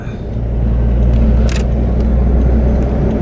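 Road traffic heard from inside a car in a traffic jam on an elevated highway in Tokyo, Japan: a steady low engine and road rumble with a brief hiss midway, loud and continuous, no talking.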